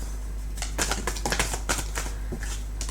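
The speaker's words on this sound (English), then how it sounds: "Whoa, they're flying out of the pack. One shuffle and they're coming out." A pack of tarot cards shuffled close up, a rapid run of crisp flicking clicks over about a second, followed by a few lighter taps against a steady low hum.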